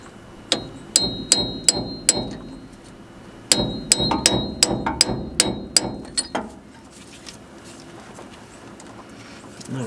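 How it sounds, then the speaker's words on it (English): A hammer taps a punch against a bulged-out steel side plate on the hydraulics of a 1967 Ford F600 dump truck, two quick runs of sharp metallic ringing strikes, close and bright. "I'm going to try and tap it a little bit with my hammer and this punch"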